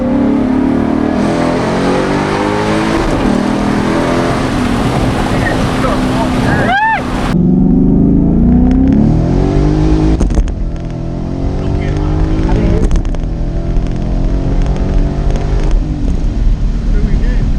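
A Ford Mustang with a 5.0 engine revs loudly nearby in a sharp burst around the middle, with a throaty rumble before and after, while people talk over it.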